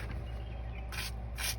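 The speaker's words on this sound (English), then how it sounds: "I gotta get lots of bolts off, so I'm gonna spray things" An aerosol can sprays lubricant onto the bolts of a 2000 Ford ZX3's rear suspension in two short, hissing bursts, close and fairly quiet over a low background hum.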